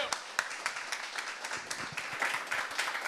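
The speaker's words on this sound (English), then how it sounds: "Round of applause" A round of applause from a tech-talk audience at a functional programming session, fairly faint, with scattered distinct claps over a steady broadband wash for about three seconds.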